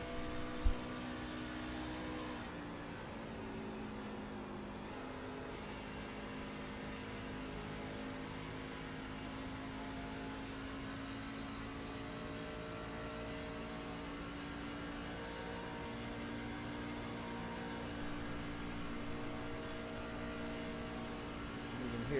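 A racing truck engine held at full throttle in a truck series race at Texas Motor Speedway in a racing video game, a steady, sustained harmonic drone with little change in pitch over about twenty seconds, no talking.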